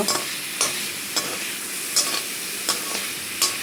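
Paneer palak gravy frying in a pan gives a soft steady sizzle, punctuated by about six scraping stirs of a spoon at irregular intervals, close by and with no talking.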